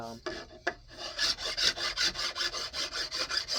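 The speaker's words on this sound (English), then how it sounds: "files are the sandpaper of the old times" A hand file rasps along a yellow birch walking stick in steady back-and-forth strokes, about four per second, after a couple of separate taps. The scraping is close and fairly quiet, and no one talks.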